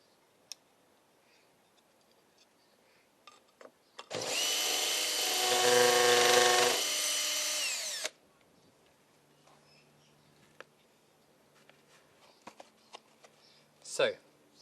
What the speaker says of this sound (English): So, just finished drilling the holes. I used a number 5 masonry drill bit